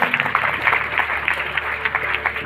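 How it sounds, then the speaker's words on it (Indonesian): Scattered audience applause at an Indonesian talk show as a speaker is introduced, steady and moderately close with dense clapping throughout, no voices on top. "Beri tepuk tangan."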